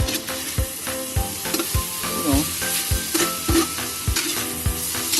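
Pork and chicken adobo with salt and bay leaves sizzles loudly in a pan, with a spoon stirring and scraping it in repeated regular strokes at close range.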